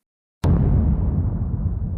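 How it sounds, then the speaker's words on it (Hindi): A sudden loud explosion erupts after silence as a cursed book hits the ground, a sharp blast that rolls into a long, heavy rumble that slowly fades. "किताब जमीन पर गिरते ही एक भयंकर विस्फोट हुआ"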